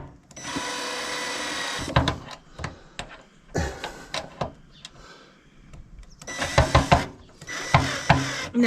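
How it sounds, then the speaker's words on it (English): A power tool works on tight kitchen fittings during a kitchen renovation, several whirring bursts of a second or so each, separated by clicks and knocks, close by and fairly loud. "Lady with a power tool."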